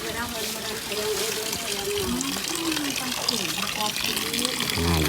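Clean water gushing at a village water source, a steady close rush and splash that keeps going throughout while a voice talks over it.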